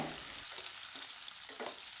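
Chopped garlic sizzles and crackles steadily in hot oil, a dense hiss with occasional soft stirring scrapes, close and moderately quiet.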